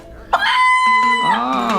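A chicken gives a loud, close crowing or squawking call that starts sharply and holds a sustained, wavering tone for over a second in an indoor setting.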